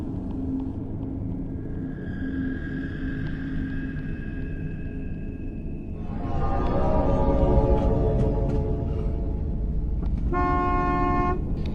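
A car horn blares in a sustained honk, then cuts into several short toots over a low idling engine rumble.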